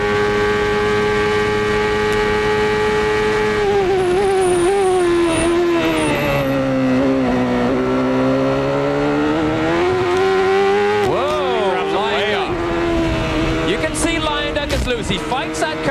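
A 1993 CART race car engine at Road America screams at high revs, briefly lifts with a falling pitch, then blasts back up through sharp rising revs, heard over a commentator's voice.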